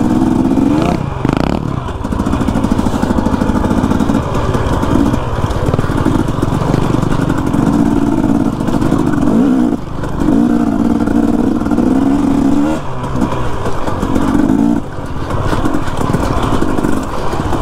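A dirt bike engine on a rocky former military bombing range in Mexico, revving loud and close during throttle and clutch takeoffs, a steady rough drone with brief dips at gear changes.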